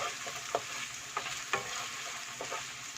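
Finely sliced onion frying in oil in a pan, a soft continuous sizzle with a handful of spatula stirs and scrapes, close but fairly quiet.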